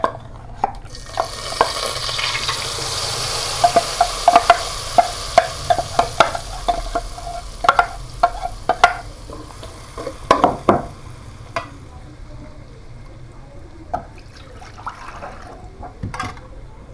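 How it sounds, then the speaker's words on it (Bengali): Dried fish curry with chili powder is stirred and sautéed in a hot pan, with a soft continuous sizzle under repeated scraping and clacking strokes of a spoon, busy in the middle and thinning toward the end. "মেন হচ্ছে এটাকে কষাতে হবে ভালো করে।"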